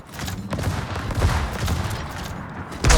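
Heavy naval gunfire from 406mm guns booms in World of Warships, a loud rumbling fusillade that runs through the whole moment and ends with a fresh blast.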